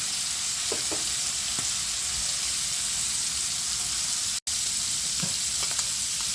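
Pork belly frying in a pan for squid adobo, with a loud, steady crackling sizzle that runs continuously, interrupted only by a momentary break, plus a few faint clinks.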